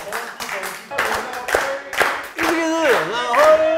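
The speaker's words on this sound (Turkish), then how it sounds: "Herkesten de alkış istiyoruz" Audience on a Turkish comedy talk show claps in steady rhythm along with voices singing and talking over it.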